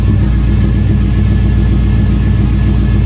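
A loud, steady custom car engine rumble close by, with a faint thin gear-drive whine running through it; no voices.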